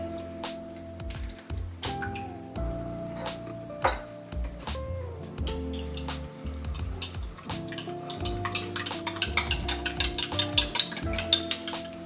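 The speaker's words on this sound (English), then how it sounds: "prep the eggs. Let's crack it open." Kitchen prep for tomato egg-drop soup: eggs are cracked and whisked in a bowl with quick clinking strokes that speed into a rapid rhythmic beating, with scattered taps and clatter of utensils close by.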